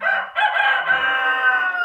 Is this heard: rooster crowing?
yes